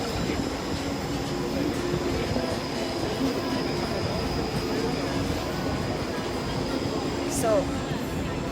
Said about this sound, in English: Train there.